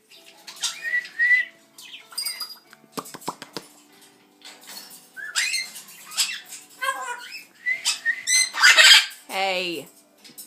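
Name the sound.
Amazon parrot squawking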